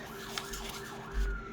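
Wailing emergency siren sweeping up and down at moderate distance, steady and unbroken, with a low rumble and a brief thump underneath.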